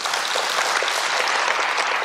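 A lecture audience of cancer patients breaks into applause at a talk by a psychiatrist, a dense, steady wash of many hands clapping that holds evenly loud for the whole stretch, with no voices above it.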